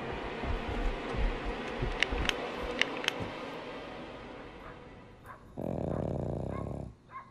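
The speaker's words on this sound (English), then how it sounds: "My dog's just snoring." Dog snoring nearby, a low, rough, rattling drone running under the other sounds, with a louder, steadier growling buzz for a second or so near the end.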